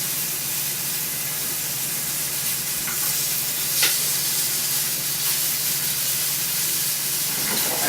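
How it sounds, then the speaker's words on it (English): Chicken cutlets for chicken piccata searing in a hot pan, a steady close sizzle and hiss holding evenly throughout with a few faint clinks and stirring touches. "Pan's still nice and hot. I'm going to let that sear up here for just a little bit."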